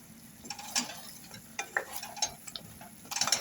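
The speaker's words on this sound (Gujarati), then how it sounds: "હવે આપણે એને હલાવશું થોડું" A spoon stirs stuffed brinjal and potato curry in a pan, making soft, irregular scraping strokes close by over a faint background sizzle.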